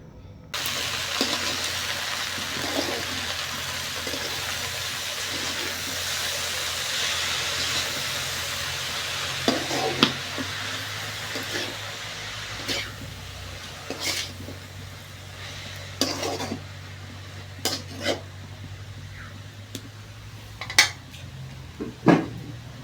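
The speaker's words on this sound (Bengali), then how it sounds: "লবণ দিয়ে শাকটা ভালো করে নেড়ে চেড়ে ঢেকে দিব যাতে শাকটা সিদ্ধ হয়।" Fresh leafy greens picked from the field being stirred with salt and green chillies in a pot, with a steady steam hiss and scattered scraping clinks of a utensil against the metal, no voices.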